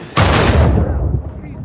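A single loud explosion in Uncharted 4 hits suddenly and close, a deep booming blast that rumbles and fades over about a second.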